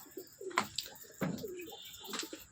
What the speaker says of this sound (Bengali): তো ওটা একটা মাদি পায়রা